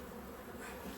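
Honey bees buzz steadily at a large beehive, a dense, continuous drone held close and fairly loud for about a second, with no voices.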